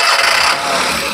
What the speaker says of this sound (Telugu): సింగిల్ సెల్ఫ్ తో మనకు వెహికల్ స్టార్ట్ అయిపోయింది.